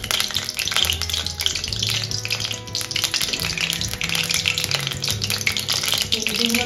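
Bay leaves and cardamom pods frying in hot mustard oil in a pan for mutton kosha, a loud, steady sizzle with crackling spits and occasional stirring scrapes throughout.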